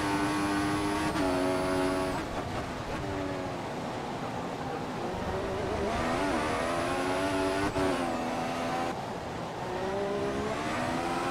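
F1 cars from the F1 2014 video game race at the German Grand Prix, one engine note steady and loud up close with rising, falling pitch sweeps through gear changes as other cars pass.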